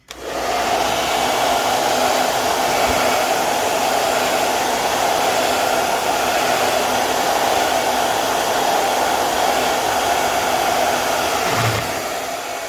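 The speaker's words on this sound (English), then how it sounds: "you're going to get your hair dryer out" A hair dryer runs steadily and loudly for the whole stretch, drying a freshly painted flamingo silhouette background, with a constant airy whoosh and motor hum and no talking.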